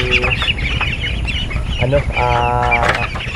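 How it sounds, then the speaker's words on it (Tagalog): One-month-old Peking ducks on a farm call out in repeated, close, fairly loud bursts over steady background noise. "papakita ko sa inyo itong ating mga alagang peking duck"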